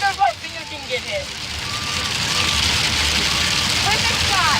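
Hail pelts down outdoors and bounces off surfaces, building into a dense, steady hiss of countless tiny impacts that grows louder and fills the scene, with a voice speaking briefly near the start.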